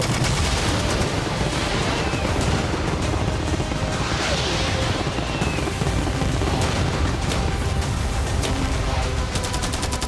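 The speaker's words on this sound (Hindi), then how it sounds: "मैं चाहता हूँ कि तुम कैनन्स, फायरवर्क्स, एरोज, कैटापल्ट्स सब कुछ एक साथ फायर करो।" Cannons, fireworks, arrows and catapults all firing at once in a video game, a dense continuous barrage of booms, cracks and crashing impacts that stays loud for the whole stretch with no pauses.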